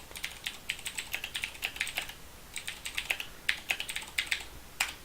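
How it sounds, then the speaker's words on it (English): Rapid, uneven clicking of keys on a computer keyboard during a livestreamed game session, with steady bursts of close, crisp taps and brief pauses between runs of typing. "A lot of typing."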